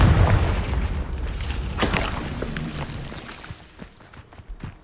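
A loud, deep Confringo explosion spell in the video game Hogwarts Legacy booms at the start, then rumbles and fades over a few seconds, with faint scattered pops and clicks afterward.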